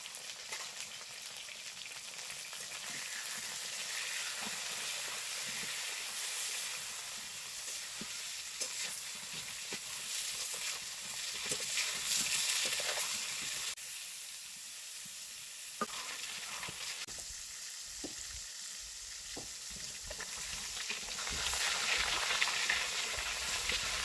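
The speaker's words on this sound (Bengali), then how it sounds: "পটল ভাজা হয়ে গেছে" Pointed gourd (potol) frying in oil with salt and turmeric, a continuous soft hiss and sizzle with occasional stirring scrapes and pops over a long stretch, no talking.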